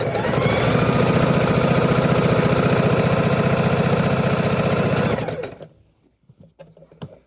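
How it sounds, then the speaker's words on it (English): Sewing machine chain stitching half square triangle fabric pieces, a fast, loud, steady rattling run of needle strokes for about five seconds, then stopping abruptly into quiet handling noises. "a lot of people call this chain stitching"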